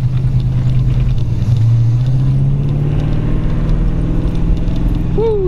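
A 1940 all-steel Ford pickup with a Ford 351 engine, C6 transmission and independent front suspension pulls away, its V8 giving a loud, steady, close rumble that rises slightly as it drives off.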